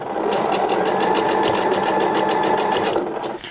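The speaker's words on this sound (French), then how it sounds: "je fais les points d'arrêt, et ensuite hop, je couds" A sewing machine runs steadily for about three seconds, stitching along a ribbon on a blouse sleeve cuff, with a fast, even mechanical chatter, close and loud, then slows to a stop.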